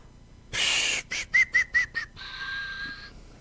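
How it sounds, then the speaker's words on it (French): A person whistles in a quiet indoor setting: one long breathy blast, then five short rhythmic chirps, then a sustained steady tone, close and clear with no talk. "Non, c'est moi qui ai sifflé."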